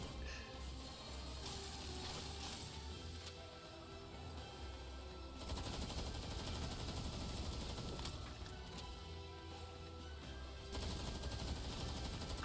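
Gunfire in the video game Palworld, faint bursts of rapid shots in several stretches over a steady low background, with no talking.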